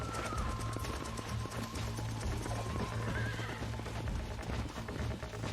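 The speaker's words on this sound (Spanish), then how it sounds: "¿Dónde vas, puto caballo?" Horse hooves clip-clop at a gallop through a Red Dead Redemption 2 game scene, with a whinny rising partway through, all set against steady music and ambient game sound at a fairly constant loudness.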